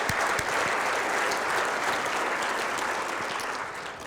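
Sustained audience applause at a transit opening presentation, dense and steady for about four seconds and tapering slightly at the end, with no speech over it.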